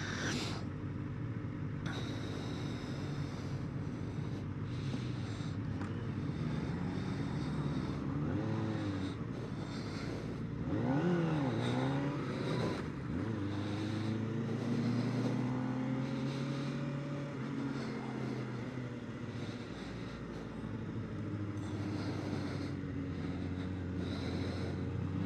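A 2024 Kawasaki ZX-4RR motorcycle engine hums continuously while riding, its pitch rising and falling through the revs under a layer of wind noise.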